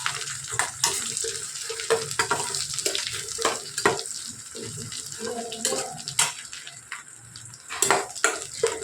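Crushed garlic sautéing in sesame oil for a manathakkali thokku: steady crackling sizzle with scattered sharp pops and spatters, fairly close and continuous, with no talk over it.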